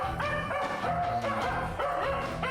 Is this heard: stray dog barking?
yes